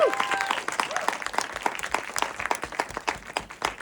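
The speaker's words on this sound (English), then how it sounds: "massive round of applause" Audience applause at a live marketing talk, dense clapping from a large crowd throughout, steady and fairly loud before gradually thinning out toward the end, with a brief voice at the start.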